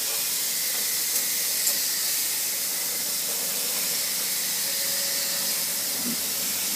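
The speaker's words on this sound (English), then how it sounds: "Nate is spraying down as removing the heavy dirt there." Water hissing steadily as it is sprayed onto air conditioner fins to wash off heavy dirt, a continuous broadband spray sound that stays fairly even and close throughout with no talking.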